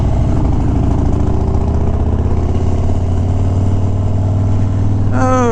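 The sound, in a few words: car engine revving to the rev limiter after missed shift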